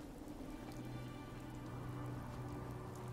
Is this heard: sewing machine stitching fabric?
no